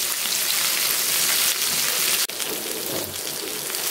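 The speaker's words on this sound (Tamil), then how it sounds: "ஃப்ரை ஆகட்டும்." Red snapper fish pieces fry in hot oil in a pan, giving a steady, dense crackling sizzle that runs loud and unbroken throughout, with one brief dip in the middle and no voices.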